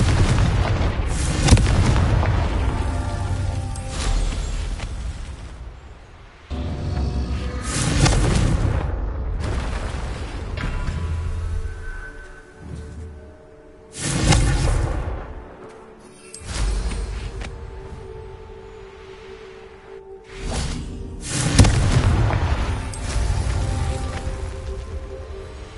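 Repeated Confringo fire-spell blasts in the Hogwarts Legacy video game: about half a dozen loud booming explosions, each followed by a rumbling decay, spaced a few seconds apart.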